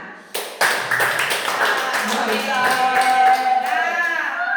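A classroom of children claps their hands in a dense, continuous patter of many overlapping claps, with children's voices and chatter mixed in throughout.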